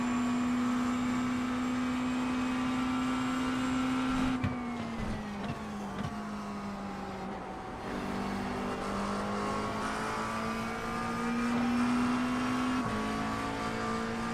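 GT3 race car engine from the iRacing sim at Monza, a steady sustained drone with shifting pitch as revs rise and dip, a couple of brief gear-change drops, loud and continuous with no talk.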